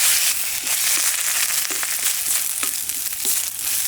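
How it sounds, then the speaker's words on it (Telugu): Sliced onions frying in oil as ginger garlic paste is stirred through them for a fenugreek leaf egg curry, giving a loud, dense, steady sizzle broken by scraping strokes of a spoon in the pan. "ఉల్లిపాయలు ఈ మాత్రం వేగాక 1 చెంచా అల్లం వెల్లుల్లి పేస్ట్ పచ్చి వాసన పోయే వరకు బాగా కలుపుకుందాం"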